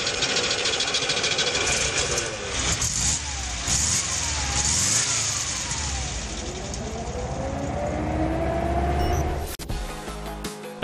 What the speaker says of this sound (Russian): Двигатель карбюраторный, бензиновый В4 задней компоновки.